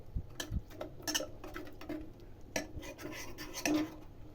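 Cooked wheat kheer being stirred and mashed in a pot, irregular metallic clinks and scrapes of a spoon against the vessel with soft thick squelches between, close and moderately quiet, no talk.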